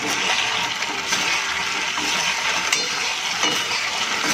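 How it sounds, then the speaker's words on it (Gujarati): Maggi noodle manchurian balls tossed and stirred in a hot pan over a high flame, giving a steady, dense sizzle and scraping that runs unbroken at close range. "હવે આપણે જે મંચુરિયનના બોલ રેડી કર્યા છે એને આની અંદર એડ કરી દઈશું અને હાઈ ફ્લેમ પર થોડા મિક્સ કરી દઈશું."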